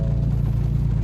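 A Ford Mustang engine running right after starting, a steady low idle rumble close by with no other sound over it.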